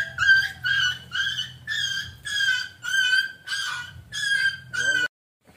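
A dog gives a series of about nine whiny, honking yelps in a steady rhythm, close by, then suddenly stops.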